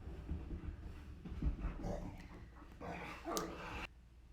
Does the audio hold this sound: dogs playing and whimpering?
yes